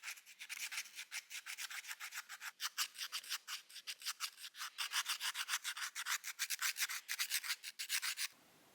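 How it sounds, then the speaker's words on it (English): 220-grit sandpaper wrapped around a burnishing rod rubs back and forth against a steel card scraper in a fast, even rhythm of about forty close strokes, with no talk, before the scraping stops abruptly near the end. "I just roll up the 220 sandpaper on my burnishing rod and run it back and forth."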